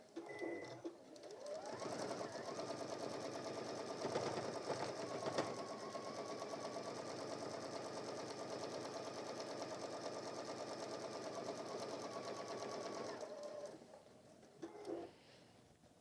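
A sewing machine with a worn needle runs in one long continuous stitching burst all the way round a small workshop project, a close, steady buzzing hum that starts after a moment, holds for about eleven seconds, then stops with brief clicks.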